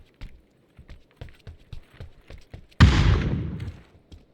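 Light quick footsteps patter, then a sudden loud video game grenade explosion bursts and rumbles away over about a second.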